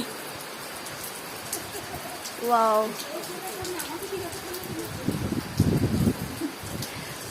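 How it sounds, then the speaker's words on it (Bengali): Heavy monsoon rain pours at Rinchenpong in west Sikkim, a dense steady hiss of falling water, while a person gives a short exclamation and other voices murmur faintly. "তারপরে শুরু হয়ে যায় মুষলধারে বৃষ্টি"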